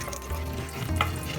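Nigella seeds sizzling in hot oil for a pomfret curry, a soft continuous frying hiss with a faint crackle, close but quiet and brief, no voices.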